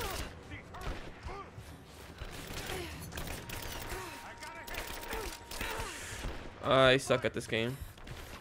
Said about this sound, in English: So tired of these guys shooting at me.